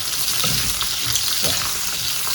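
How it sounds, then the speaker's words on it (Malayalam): Split green chillies sauté in sesame oil for an Onam chilli pachadi. A loud, dense sizzle crackles close up without a break, with stirring scrapes mixed in and no voices. "ആ 100 ml നല്ലെണ്ണയിൽ മുളക് നന്നായിട്ട് 2ആയിട്ട് കീറിയ മുളക് അത് ഇട്ടിട്ടൊന്ന് വഴറ്റണം."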